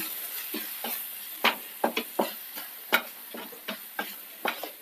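Egg mixture with pepper powder being mixed in a bowl for stuffed egg chapati, giving irregular sharp clicks and taps of the utensil against the bowl, close and distinct, with no talk.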